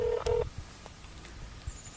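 Two short telephone dialing tones beep close by on a phone used to remotely activate a Stormsetter4 outdoor warning siren, followed by near silence with a few faint clicks.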